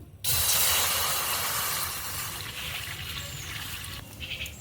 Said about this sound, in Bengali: কড়াইতে এবার জল দিয়ে দেব।